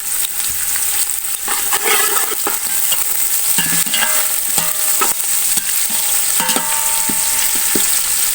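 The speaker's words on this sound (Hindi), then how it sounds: "अब प्याज को थोड़ी देर फ्राई कर लेंगे।" Onions frying in a hot pan while being stirred, a constant loud sizzle broken by scraping and clinking of the spoon against the pan at irregular moments, close up, with no talking.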